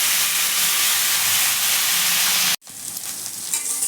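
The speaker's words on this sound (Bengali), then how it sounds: "বেশিক্ষণ ভাজার দরকার নেই, এটাকে জাস্ট একটু এপিট ওপিট করে একটু ভালো হালকা করে ভেজে নিলেই হবে।" Small crabs fry in a pan with a loud, dense hiss and sizzle close up. The sound breaks off briefly and then resumes as they are stirred.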